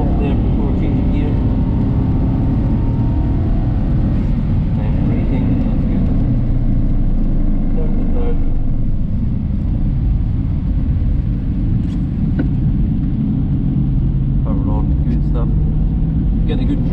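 An Aston Martin V8 Vantage drives hard around the Knockhill racing circuit, its V8 giving a steady, loud, low engine drone throughout with shifts in pitch as it changes gear, while someone talks over it.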